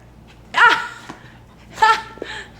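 A pet dog gives two short yips or barks about a second apart, fairly close and clear against a quiet room, with a faint whimper trailing after the second.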